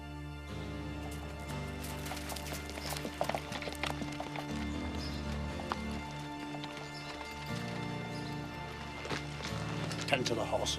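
Horses' hooves clip-clop steadily over a music-like backdrop in a historical drama, with a voice talking at times; the hoofbeats are moderately close and rhythmic.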